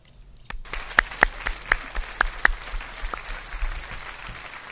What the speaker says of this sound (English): please join us in applauding all of our new Honor Society members